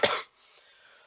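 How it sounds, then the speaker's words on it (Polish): A single short, harsh cough close to the mic, followed by quiet room tone. "Staram się nie kaszleć, no ale czasem muszę."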